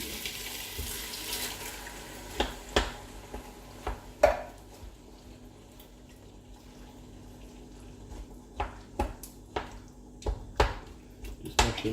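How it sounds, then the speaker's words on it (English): Chicken tikka curry stirred in a pot: scattered clinks and scrapes of a utensil against metal with soft wet sloshing, close and moderately quiet, with irregular gaps between strokes. "Mix it up a bit, stir it all in"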